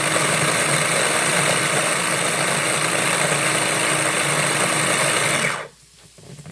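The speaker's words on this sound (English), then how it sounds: "So I've got this mini chopper." Electric mini chopper chopping onions, a loud steady motor whir running continuously for about five and a half seconds, then cutting off abruptly into near silence.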